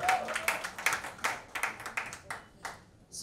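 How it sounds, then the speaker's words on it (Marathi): Scattered clapping at a film teaser launch, a series of separate sharp claps with uneven rhythm, some closer and louder than others, the applause for the cast thinning out toward the end. "या सगळ्या कलाकारांसाठी जोरदार टाळ्या झाल्या पाहिजेत"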